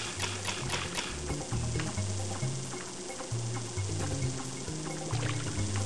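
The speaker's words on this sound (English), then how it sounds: "this raises the water again" Water level rising in Super Mario 64's Wet-Dry World, a steady splashing, trickling pour under game music with tinkly notes, continuous and moderately loud.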